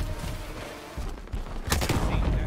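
Gunfire in the Shatterline video game, with shotgun blasts: a few loud booming shots with short gaps between them, the heaviest near the end, over a busy game background, with no speech.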